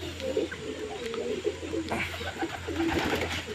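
Low, soft cooing from several pigeons eating grain rolls on steadily through a murmuring, busy background with faint fluttering.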